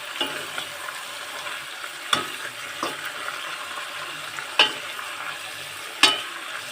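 Leafy greens cook in a pan with a soft, steady sizzle, punctuated by a few sharp scraping knocks of a utensil against the pan.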